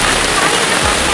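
Heavy rain pours down around a flooded home, a dense, loud, unbroken roar of water that fills the whole moment with no pauses.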